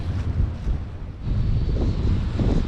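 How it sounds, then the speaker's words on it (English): Gusty wind buffets the microphone on a beach during sea fishing by the River Mersey, a rough, low rumble that swells and eases against a background of surf, with no talk. "It's not just the wind we're dealing with."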